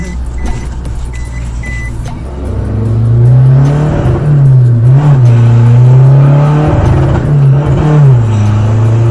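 A 2020 Isuzu 1.9 DDI Blue Power pickup engine with a remapped tune revs loudly and close, its pitch climbing, holding and dipping in repeated swells after a quieter idle start.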